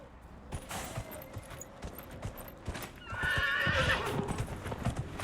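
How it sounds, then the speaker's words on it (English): Rhythmic hoofbeats of a galloping horse in the video game Dragon Age: Inquisition, steady clip-clop close by, with a whinny rising over the hooves partway through. "Is it faster using the horse?"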